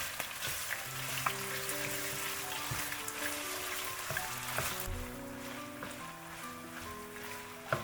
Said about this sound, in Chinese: 下面锅中倒入适量的食用油，油热之后将切好的肉末倒进来，翻炒均匀，把肉末炒熟炒香